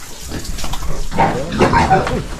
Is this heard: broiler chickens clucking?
no